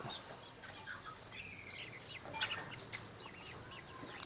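Free-range village chickens cluck and chirp in a small backyard pen, soft scattered calls over a faint, steady background hiss.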